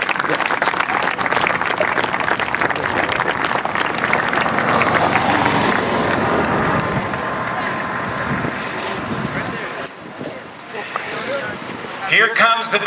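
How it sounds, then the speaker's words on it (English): Outdoor air show crowd applauding military veterans, broad sustained clapping with wind noise on the microphone, thinning toward the end as a voice speaks over it. "join me in a round of applause for all who have served in defense of our country"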